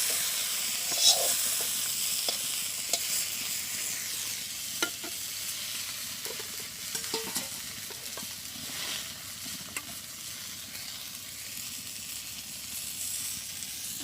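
Onion and green chili frying in a pan in a village kitchen, with a steady soft sizzle and scattered scraping clicks of stirring running throughout, no voices.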